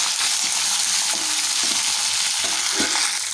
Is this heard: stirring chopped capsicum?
yes